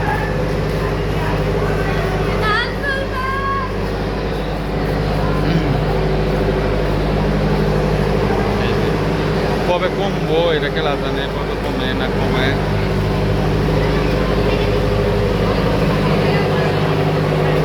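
Trains and road vehicles rumble steadily at crowded Kamalapur railway station, a loud continuous mix of engine drone and passing traffic with occasional squeals, while a person talks over the noise throughout.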